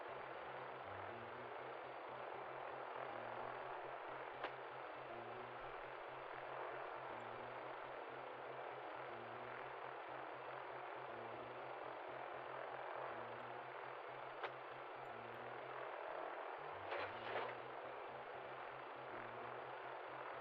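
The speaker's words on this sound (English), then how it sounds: "Why is the heli moving?" A helicopter in GTA roleplay drones steadily with a low, pulsing rotor throb and a hissing engine wash, continuous and fairly close throughout.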